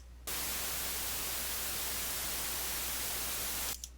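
Steady white noise from the Synthesia synthesizer fills the sound evenly from top to bottom, with a low hum underneath. It starts and stops abruptly and is heard alone at a moderate level.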